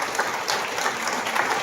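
A standing audience at a Kurukshetra religious gathering claps for Sandeep: a brief, thick burst of continuous applause from many hands, loud and even throughout.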